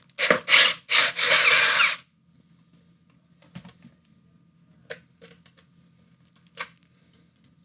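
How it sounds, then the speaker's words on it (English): A power tool whines loudly in three short bursts at the start while cutting open a worn Tempo home gym, followed by quieter scraping, clicks and rattles of work on a hard object. "I'm going to hack at this with the power tools"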